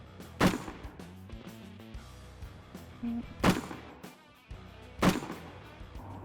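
Three sharp gunshots ring out on an army shooting range, spaced roughly two seconds apart with echoing tails and low background rumble between them, no voices.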